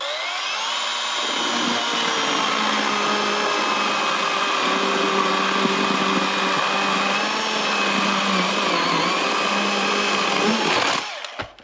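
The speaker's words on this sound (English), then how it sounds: "I'm just gonna cut it at the bottom" An inexpensive electric chainsaw cuts through the base of a naturally fallen, termite-infested tree stump, its steady high motor whine running loud and unbroken for about eleven seconds before cutting off abruptly.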